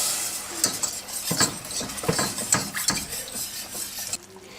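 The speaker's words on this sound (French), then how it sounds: "Et puis, on continue à touiller." A spoon stirs beef bourguignon sauce in a pot after broth has been added, with repeated scraping and clinking strokes over a faint simmering sizzle, close and fairly quiet.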